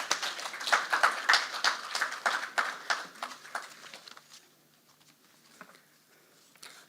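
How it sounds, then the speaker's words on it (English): A small forum audience claps for panelists coming forward, scattered individual claps loud at first, then thinning out to a few faint, sparse claps. "we'd like to give them a round of applause as they come forward"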